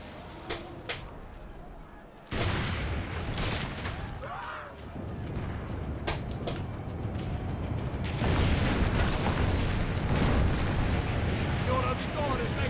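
Cannon fire in Assassin's Creed: Brotherhood, heavy booming blasts and rumbling explosions that surge in loud bursts over a dense battle din, with speech in the background.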